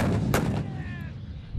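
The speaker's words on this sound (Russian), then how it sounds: "Выстрелы орудий слышны далеко за пределами полигона." Artillery guns fire during an annual military training exercise at a firing range, one sharp distant boom followed by a long rolling echo that fades out, with no voices.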